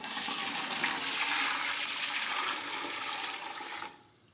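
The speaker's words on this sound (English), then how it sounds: "So first off, I'm just going to be adding the water." About 2.5 litres of water is poured into a container while making lime sulphur, a steady close rushing splash that fades out near the end, with no talking.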